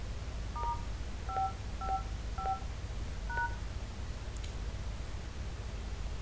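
Six DTMF keypad tones from a phone dialer in an Android emulator running on a PC, sounding as separate short beeps over a steady background hiss.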